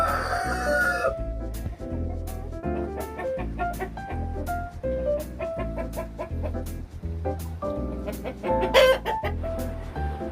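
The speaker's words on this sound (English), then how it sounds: "And there's our boss hen," Chickens in a coop on a rainy day, a hen's loud repeated clucks and calls close by, rhythmic and insistent over a continuous background.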